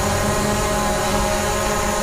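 Small drone's propellers spin continuously at close range, a steady loud whirring buzz with layered tonal whine, running alone with no talk, just before shutdown after a crash in Angeles City, Philippines.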